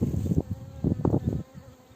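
Honey bees buzz at an open hive during a queen check, close and loud, in short overlapping bursts of droning hum.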